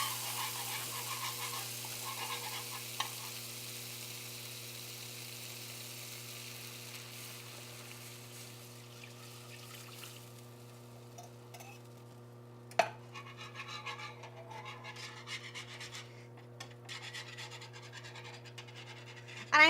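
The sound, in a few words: whisking curry paste and coconut milk in a non-stick pan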